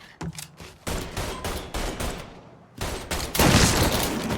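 Gunfire from the Mafia III video game on PS4: rapid bursts and volleys of shots, loud and close, with a brief lull before another dense, heavier barrage.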